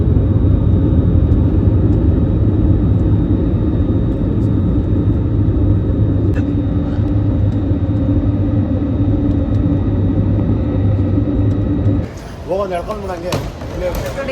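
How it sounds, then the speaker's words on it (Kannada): A passenger jet taxiing at an old city airport in Almaty, heard from inside the cabin as a loud, steady low rumble and whine that drops off near the end, followed by a voice. "ನಮ್ಮ ಫ್ಲೈಟ್ ಇವಾಗ ಮೂವ್ ಆಗ್ತಿದೆ."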